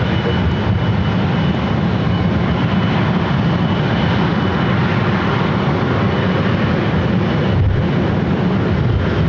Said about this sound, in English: KLM and the KLM Asia